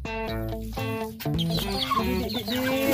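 Several chickens cluck and squawk close by in a busy, overlapping chatter, with a drawn-out crowing call at the start.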